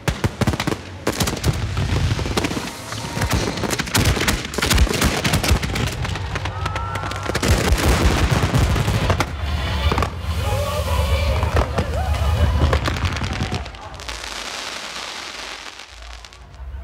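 A fireworks display set off from an electronic firing system erupts in dense, rapid volleys of loud crackling bursts and booms that go on for many seconds, then thin to a softer hiss at the end, with some voices underneath.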